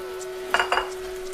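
Cilantro goes into shrimp fried rice in a wok, marked by two quick metallic clinks of a utensil against the pan over a faint background hum.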